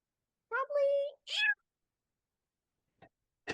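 A person imitating a cat, giving a drawn-out meow followed by a shorter one, then two brief soft sounds after a pause, in a quiet room.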